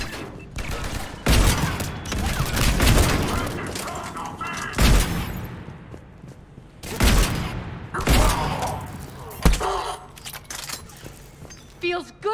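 Loud bursts of gunfire from the Mass Effect 3 video game, volleys and heavy booms repeating across the stretch, mixed with game voices and shouting.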